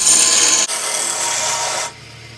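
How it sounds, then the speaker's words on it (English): A wood lathe spins a goblet of diseased chokecherry while a tool cuts a small bead, producing a loud, close, steady scraping rasp that stops abruptly at the end, leaving only a faint hum. "So I'm going to just make a little bead down here."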